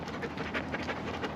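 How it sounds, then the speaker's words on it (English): A dog named Scout pants quickly and steadily nearby, a rhythmic breathy huffing that fills the short moment with no talk over it. "Here comes another dog."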